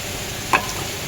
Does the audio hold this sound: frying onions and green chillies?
yes